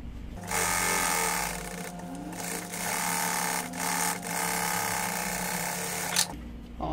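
A sewing machine runs in steady bursts, stitching the lining close to the edge inside a double cosmetic case. The motor hums loudly and evenly, with short pauses and a small clack near the end, and no talking.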